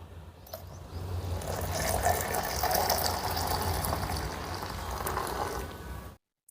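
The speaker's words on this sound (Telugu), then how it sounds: "ఇప్పుడు మనం తీసుకున్న ఈ 1/2 లీటర్ పెరుగుకి నేను 30 లీటర్ వాటర్ వేస్తున్నాను, కూలింగ్ వాటరు" Half a litre of churned yogurt gets 30 litres of cooling water poured in for masala buttermilk, a steady gushing pour that keeps up for about six seconds and then stops abruptly.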